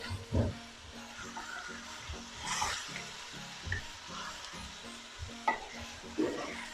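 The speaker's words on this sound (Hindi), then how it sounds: "अब इसकी अच्छी सी भुनाई होगी।" Ginger and garlic paste frying in a pan for chicken korma, with close sizzling and repeated stirring scrapes in an uneven rhythm; no talk.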